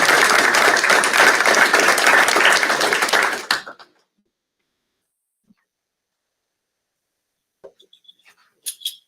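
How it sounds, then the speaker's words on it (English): An audience at a school district board meeting applauds a teacher in a full burst of clapping that lasts nearly four seconds, then cuts to near silence with a few faint knocks and shuffles afterward. "So we'll give Kelly a round of applause"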